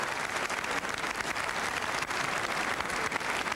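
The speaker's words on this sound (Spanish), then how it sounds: "El público que aplaude" Steady, somewhat distant crowd applause in a boxing arena between rounds of the Virchis–Bidenko fight, continuous and even with no speech on top.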